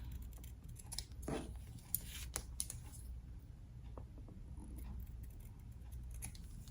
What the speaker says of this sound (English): I proceed to cut those as straight as I can